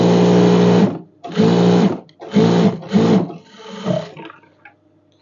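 Sewing machine running a two-thread seam along the front centre of a kandura, in four loud, steady bursts of stitching separated by short pauses, followed by a softer, trailing run.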